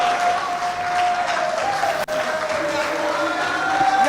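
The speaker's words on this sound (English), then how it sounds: "let a round of applause flow" Applause and some cheering from an audience at a live business-challenge grand finale as trophy winners come on stage; steady crowd clapping with a brief dip midway, and voices mixed in.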